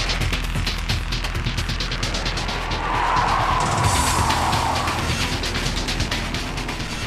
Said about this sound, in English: the slippery condition of the track that day even sent Gansan for a little spin